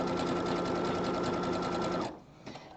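Sewing machine stitching elastic onto a strappy jockstrap, a fast, even motor whir with rhythmic needle clatter running steadily for about two seconds before stopping, followed by a few faint handling sounds.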